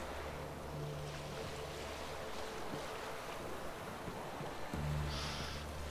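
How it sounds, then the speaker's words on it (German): Wind and water rush around a sailboat at sea in The Witcher 3, a steady, loud, broadband whoosh of waves and gusts with a low hum underneath that briefly drops and returns. "Wind kommt auf."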